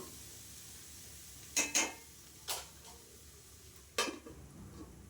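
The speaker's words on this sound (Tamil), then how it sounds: "இப்போ வந்து கிளறி விட்டுங்க நம்ம வந்து மூடி வச்சிடலாம்" A spoon stirs a flat-bean (avarakkai) stir-fry in a pan, giving a few sharp metallic scrapes and clinks spaced over a couple of seconds, then a lone clatter as a lid is set on, over a quiet background hiss.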